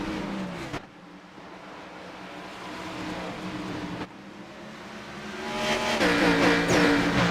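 Race cars at Richmond sweep into turn 1 with a continuous engine drone and tire noise. The roar swells louder toward the end as the pack passes near, with no talk over it.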